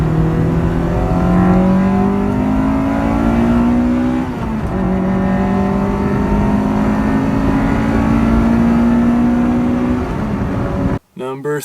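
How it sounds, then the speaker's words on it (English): A 1999 Acura Integra engine revs hard past 4,500 RPM into VTEC toward its 8,000 RPM redline, two loud rising sweeps of engine tone heard up close inside the car, cut off sharply at the end. "every time you get into VTEC, it's really satisfying to hear"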